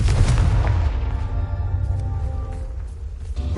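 Hogwarts Legacy wizarding game: the Confringo fire-blast spell lands as a heavy booming explosion, loud and deep at first, then rumbling and slowly decaying into a low crackling tail.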